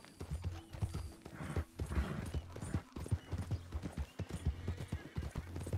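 Horse hooves clip-clop in a steady trotting rhythm in the video game Red Dead Redemption 2, close and continuous with light tack rattling between the beats.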